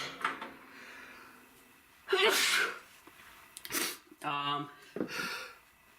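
A single sharp sneeze bursts out close to the microphone, followed by a sniff and some muffled talking against faint background noise.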